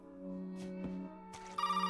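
A telephone rings in the survival horror game Resident Evil 7, sounding as a steady electronic ringtone with sustained tones that shift into a brighter, pulsing ring near the end, with no talking.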